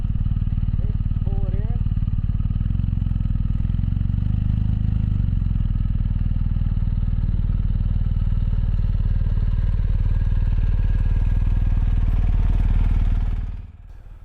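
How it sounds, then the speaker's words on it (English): Adventure motorcycle idling steadily while walked forward on a slight incline using only the clutch, a loud, close, even engine drone that cuts off near the end. "walking the bike forward at idle on a slight incline, using only the clutch"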